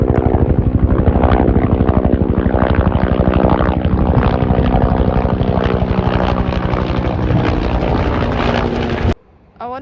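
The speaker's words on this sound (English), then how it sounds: "I wonder if that was a search and rescue helicopter." A low-flying helicopter thunders close by, its rotor pulsing in a loud, rapid, steady chop for about nine seconds before cutting off sharply into near silence.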